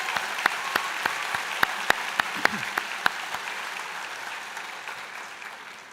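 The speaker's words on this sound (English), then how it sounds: "Maybe everybody would join me for a round of applause for the graduating class of 2019." Applause for graduates at a School of Engineering Technology convocation, heard as scattered, distinct claps over a soft crowd bed that thins and fades toward the end.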